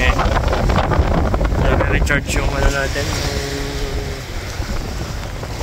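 Steady wind rushes across the microphone at Maraetai Beach in South Auckland, a loud broadband buffeting that runs throughout, with a person talking over it.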